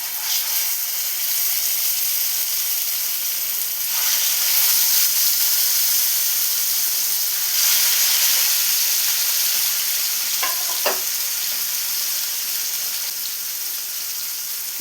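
Mackerel shallow-frying in a pan of hot oil, a steady close sizzle and crackle with brief louder spits and pops partway through, no talking.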